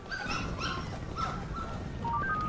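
A puppy whimpers in the video game Halo 3: ODST, with several thin, high whines and yips spread across a couple of seconds over a steady low rumble of game ambience.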